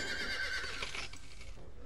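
A horse whinnies in a horse-riding video game, one drawn-out neigh that is fairly loud and clear, fading out over a couple of seconds.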